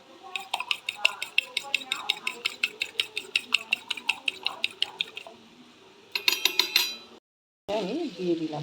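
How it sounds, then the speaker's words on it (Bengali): An egg is whisked briskly in a bowl for a Bengali eggplant recipe, a close rapid series of clinking taps in steady rhythm, then a quicker burst, a pause and a brief voice. "আমি ডিমটা ফেটিয়ে নিচ্ছি"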